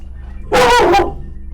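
A single close dog bark, loud and brief, rings out in a streamer's room, with a low steady background hum before and after.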